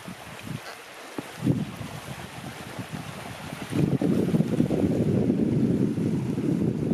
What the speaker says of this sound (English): we ran into quite a bit of water flowing